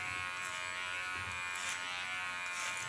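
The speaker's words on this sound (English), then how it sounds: "the nice thing of working with a comb is that you can guide your hairs into the clipper." An electric hair clipper with a comb attachment cuts short hair, a steady high buzzing hum that stays loud and unbroken, with faint snipping texture and no voices.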